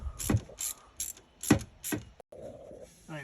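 Ratchet clicking in short bursts while undoing the turbo inlet pipe on a 27-year-old Land Rover Defender 300Tdi with a number 7 bit, several quick ratcheting strokes close up, then a brief pause and a faint low hum.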